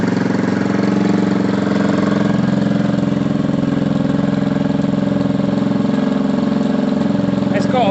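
A warmed-up motorcycle engine, likely a Kawasaki ER-5, idles steadily and fairly loud with an even, rapid throbbing pulse close by, running without a break through the whole stretch.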